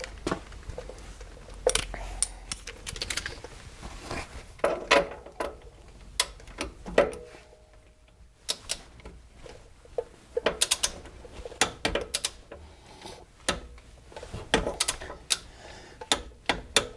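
Ratchet clicks and mechanical clatter from tightening suspension bolts while installing Megan Racing coilovers on a Pontiac GXP, heard as scattered bursts of sharp clicking across the clip, close by, with quieter pauses between.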